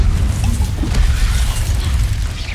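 Fire spell Incendio cast in Hogwarts Legacy, a dense rumbling burst of magical flame with booming low-end energy sustained loudly throughout, no talking.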